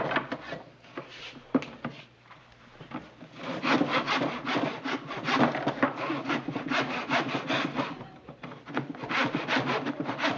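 A hand saw cuts through a piece of wood molding in a 1962 TV sitcom scene, with a steady, rasping back-and-forth rhythm. The strokes are close and quicken after a slow start.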